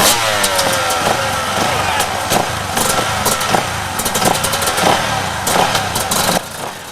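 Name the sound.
Kawasaki and Yamaha enduro motorcycles starting a race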